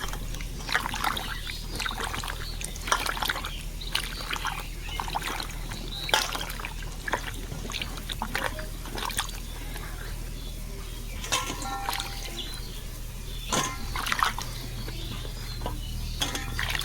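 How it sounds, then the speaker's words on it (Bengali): Pointed gourd (potol) being rinsed under running tap water in a kitchen, with steady trickling and splashing plus scattered knocks of the vegetables against a bowl, close and continuous throughout. "পটলটা আমি ভালোভাবে ধুয়ে নেব পরিষ্কার করে"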